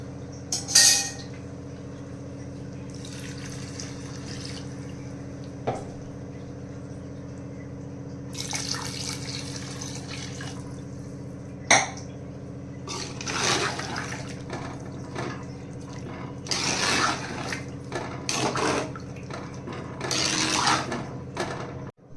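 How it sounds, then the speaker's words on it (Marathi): Water is poured into rice and fried masala for chicken pulao, making a few faint, scattered splashing and trickling bursts against a quiet kitchen background. "आता ह्यामध्ये आपण पाणी टाकणार आहोत."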